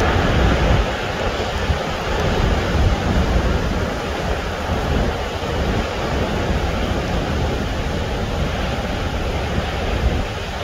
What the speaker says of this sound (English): we'll look at the waves for a little bit